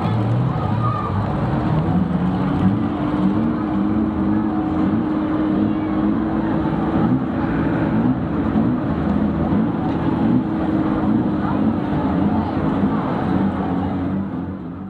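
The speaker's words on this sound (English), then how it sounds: "So another healthy field of cars, 30 unlimited bangers" Thirty unlimited banger racing cars, a big field of worn stock cars, roar around an oval track together in a continuous loud engine drone that holds steady throughout with little variation.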